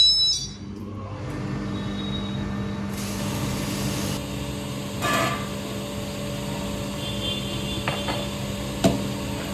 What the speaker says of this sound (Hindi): और अब हम चक्की चालू करते हैं।